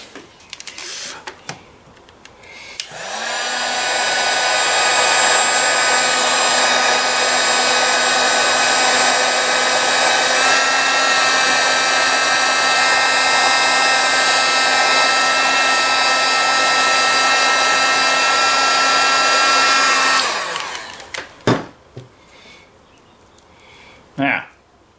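A hot-air blower shrinking heat-shrink tubing over switch panel wiring for a push-to-start ignition setup, a steady loud whirring roar running unbroken for about seventeen seconds, with brief handling noises before and after.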